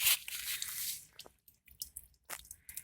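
Water pouring from a kettle onto the soil of a potted fruit tree, a hissing splashy stream at first, then scattered drips and soft squishy trickles, close and quiet.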